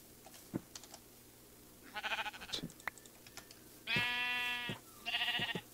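A black sheep in the video game Minecraft bleats twice in long wavering calls, close and clear, with scattered clicking of game input and small sound effects around them.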